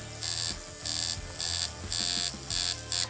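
A tattoo machine running with its needles buzzing, a bright electric whine that starts and stops in short repeated bursts, close and fairly loud.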